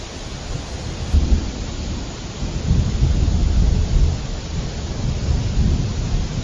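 A cartoon thunderstorm over rice fields during the harvest season: steady, heavy rain hisses throughout while deep thunder rumbles rise and fall in long waves, with no talking.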